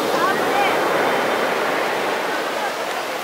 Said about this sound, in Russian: Вот такие волны, смотри, какие волны.